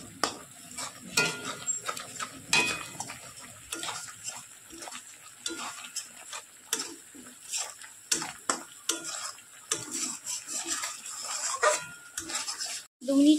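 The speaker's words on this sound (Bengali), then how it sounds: "এবার ভালোভাবে মশলাটাকে কষিয়ে নেব।" Ground spices (salt, turmeric, Kashmiri chili and red chili powder) fry in a pan for a soybean curry while a spoon stirs and scrapes. Repeated clinking, scraping strokes sound over a soft sizzle, with a voice speaking at times.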